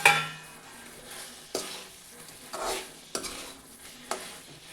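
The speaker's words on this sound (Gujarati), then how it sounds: "હવે તેમાં આપણે નાસ્તાના બોલ્સ છે તેને નાખી દઈએ અને સારી રીતે મિક્સ કરી દઈએ" Leftover roti snack balls are stirred through a vinegar sauce in a pan, producing wet squelching stirs with a few sharp scraping accents roughly every second, close up, with no talking.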